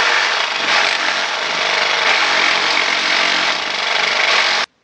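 A hacksaw rasps steadily through a DeWalt 60V FlexVolt lithium battery, a continuous gritty scraping for several seconds before stopping abruptly.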